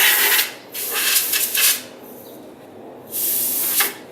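Spray paint hisses out in three bursts onto a prop Halo 4 gravity hammer, the first two close together and the last after a pause, loud and near.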